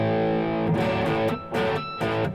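Electric guitar played through the bridge pickup with a driven, distorted tone, sounding a few sustained chords and notes in separated phrases, close and alone with no talking.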